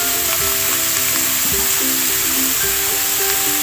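Soy sauce and chili sauce sizzling in a hot pan make a loud, constant hiss, with a faint tonal hum and a few soft thumps underneath.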